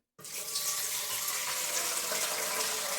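Water gushing into an autoclave used for canning fish at home, a loud steady rushing stream that starts abruptly and runs continuously.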